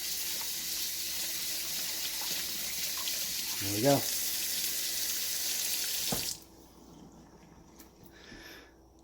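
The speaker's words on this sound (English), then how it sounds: "Give it a flush, hot water." Hot water from a tap runs in a steady close rush while flushing out a Traxxas X-Maxx RC car during cleaning, stopping abruptly partway through, and someone speaks briefly while the water still runs.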